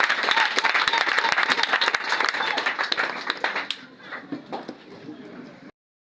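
A church congregation at a worship service claps and cheers for Jesus, loud dense applause for several seconds that thins and fades toward the end, with voices mixed in.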